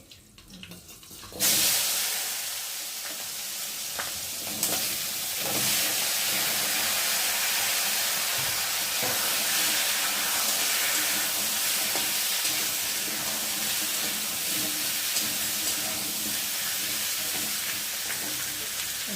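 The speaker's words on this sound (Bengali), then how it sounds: "চলো কাঁচকলা আর আলুটা ভালো করে ভেজে নিই" Green banana and potato pieces with green chillies hit hot oil tempered with cumin seeds, bursting into a loud, sustained, close sizzle that holds steady with faint stirring.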